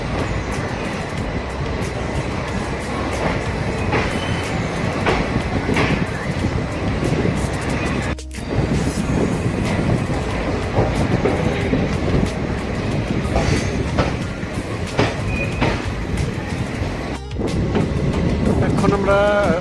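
A passenger train pulls out of Agartala station and rolls along the rails, a steady loud rumble with rhythmic wheel clatter heard from on board, wind noise mixed in and occasional voices.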